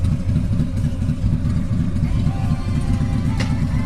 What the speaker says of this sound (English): That's a motorcycle.